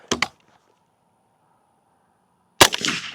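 Two sharp shots from a suppressed SIG MCX Spear LT rifle, fired from a VTAC barricade, separated by a long near-silent gap, each a loud close crack with a brief tail.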